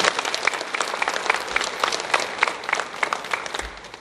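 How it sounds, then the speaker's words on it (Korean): A church congregation at a Sunday worship service gives a round of applause to greet a visiting family, a full, even clatter of many hands that tapers off at the end. "박수 한번 부탁드리겠습니다."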